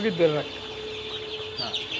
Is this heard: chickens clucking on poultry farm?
yes